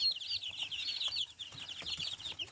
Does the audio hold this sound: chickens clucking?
yes